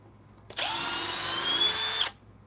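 A cordless drill removing a screw whirs at a steady pitch for about a second and a half, close and loud, then stops abruptly.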